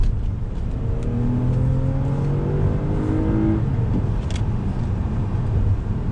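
A 2020 Toyota Avalon TRD accelerating hard on throttle, its engine note climbing steadily through rising gear pulls inside the cabin, a smooth continuous drone with no talk.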